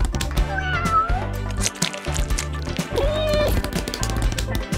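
Several cats meow repeatedly as they are let into a newly fixed-up room, their rising, drawn-out calls overlapping close by against a low background hum and faint running-water noise.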